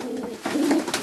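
Janssen racing pigeon cooing inside a large breeding loft in Germany, a short, soft, throaty coo heard close by with no voices over it.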